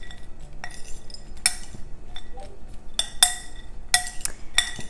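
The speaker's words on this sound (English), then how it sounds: "just mix the topping ingredients together" A spoon clinks and scrapes against a bowl while bacon and blue cheese topping with balsamic glaze is stirred together, with sharp, irregular metallic taps and soft scraping between them, close and fairly quiet.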